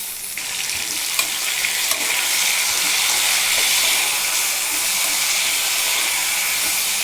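Two large tomatoes and other ingredients sauté together in a pan for a pirandai chutney. A loud, steady sizzle and hiss carries on throughout, with a few faint stirring knocks and no voices.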